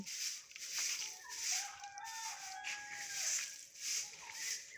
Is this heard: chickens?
yes